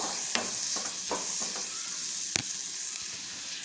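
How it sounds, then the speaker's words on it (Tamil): Onions sauté in a hot pan with a steady sizzle, punctuated by several sharp scraping clicks as a spatula stirs them, with no voices. "வெங்காயம் கொஞ்சம் வதங்கட்டும் சேர்த்து கலந்து விட்டுக்கோங்க"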